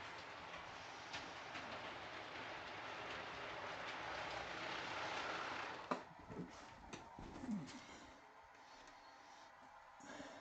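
A model train runs along a layout, its wheels clicking and rumbling steadily at close range before the sound drops away, followed by a few quieter knocks and rattles with no talk.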